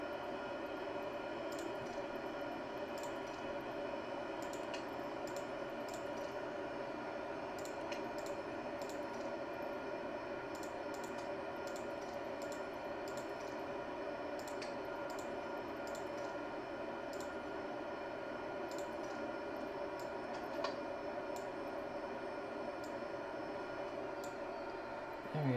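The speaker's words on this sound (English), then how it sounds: "do you turn off the engine in this thing?" A faint aircraft engine hums steadily in Microsoft Flight Simulator, a low continuous drone with light intermittent ticks and no talk.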